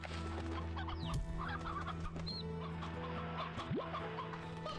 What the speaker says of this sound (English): I guess the chickens we're gonna take with us.